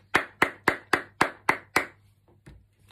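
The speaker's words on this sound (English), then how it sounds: "Give him a round of applause." A single person claps seven times at an even pace during a school assembly, sharp close slaps in quick succession, then one faint clap after a short pause.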